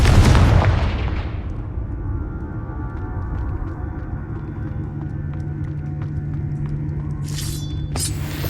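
A Confringo blasting spell from Hogwarts Legacy goes off with one heavy booming explosion up front, then a long low rumbling tail, with a faint magical shimmer near the end.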